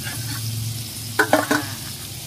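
Onion and tomato fry together with squid in a pan for coconut-milk squid adobo. A low, steady sizzle runs under a few sharp stirring scrapes that land close and loud toward the end.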